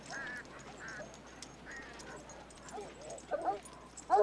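Dogs bark and yelp in the distance during a night manhunt for escaped men, a few scattered calls that grow louder and closer toward the end.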